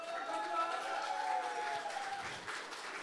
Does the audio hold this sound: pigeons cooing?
no